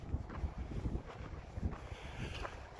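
Wind gusting on a cloudy mountain day hike near Emerald Mountain in Rocky Mountain National Park, Colorado, buffeting the microphone in low rumbling bursts that rise and fall.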